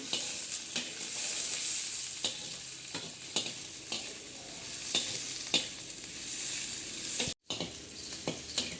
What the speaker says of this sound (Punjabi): ਹੁਣ ਆਪਾਂ ਇਹਦੇ ਵਿੱਚ ਹੀ ਜਿਹੜੇ ਪਿਆਜ਼ ਕੱਟੇ ਹਨ ਇਹਨਾਂ ਨੂੰ ਆਪਾਂ ਚੰਗੀ ਤਰ੍ਹਾਂ ਫਰਾਈ ਕਰ ਲੈਣਾ